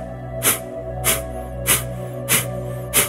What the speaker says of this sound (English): which is a short, rapid exhale out the nose.